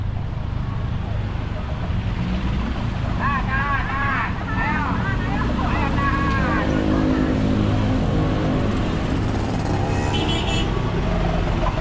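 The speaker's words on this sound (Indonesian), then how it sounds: "Dan sini terlihat kepadatan kendaraan rest area KM 80" Heavy vehicle traffic rumbles steadily at the KM 80 highway rest area in Puncak, a loud continuous engine drone with a person talking over it throughout.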